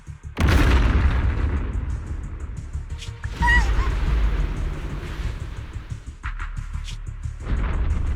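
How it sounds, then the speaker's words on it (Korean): An airship crashes and explodes in the video game Zenless Zone Zero, producing heavy booming blasts with a deep rumble that continues between the repeated impacts, along with a few metallic clangs. "비행선이 추락하고 있어."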